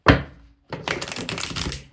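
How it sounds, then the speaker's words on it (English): Tarot cards shuffled by hand for a collective reading, a sharp riffle at the start, a short pause, then a steady run of dense papery flutters and slaps close up. "feel free to fast forward through the shuffling if you like"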